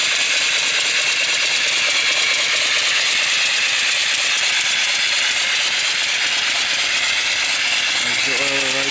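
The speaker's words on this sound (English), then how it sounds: "antique reproduction engine running off of a 20-inch boiler that I built" An antique reproduction live steam engine running off a 20-inch boiler gives a loud, steady rush of hissing steam with a fine mechanical rattle underneath, continuous and close, then a brief tonal squeak near the end.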